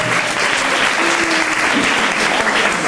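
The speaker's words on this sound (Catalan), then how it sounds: "Aplaudiment pel Quique" A live audience at a rock music talk applauds the keyboard player, loud, dense and steady clapping throughout, close and sustained without pause.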